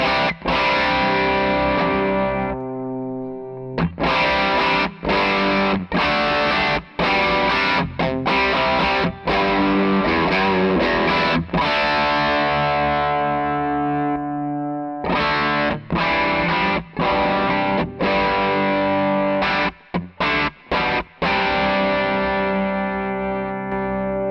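Electric guitar played through an amp in its lower gain mode, sustained distorted chords with effects and reverb, strummed in repeated bursts with short pauses, loud and close with no talking.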